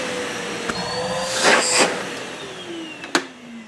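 Numatic Henry HVR-160 vacuum cleaner running after repair, a steady whirring motor drone close by with a few brief clicks and bumps as it is handled.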